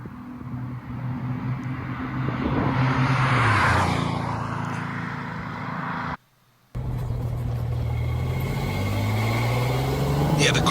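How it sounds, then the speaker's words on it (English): A car engine runs steadily and rises in pitch as it revs, loud and close, with a brief silent gap midway before idling and revving resume, heard in a walk-around of a collector car sold at auction. "Yeah, the car sounded good."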